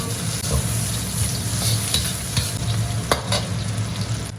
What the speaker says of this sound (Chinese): 随后葱姜蒜爆锅，先给它爆香